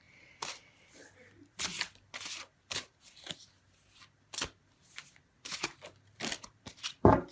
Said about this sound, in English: So let me pull a guidance card for you, Pisces.